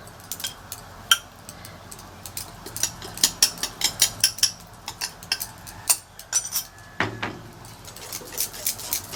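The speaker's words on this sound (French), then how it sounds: "un fouet, tout simplement. Mes œufs avec le sucre." A wire whisk beating eggs and sugar in a bowl, producing quiet, quick clinking and scraping strokes in an irregular rhythm, close but faint.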